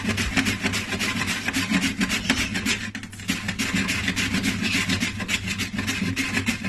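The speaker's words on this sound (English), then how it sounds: "So I'll go ahead and begin to grate it just like so." Unripe plantain is rubbed against a hand grater in quick, rhythmic rasping strokes, close up and steady, with no voices.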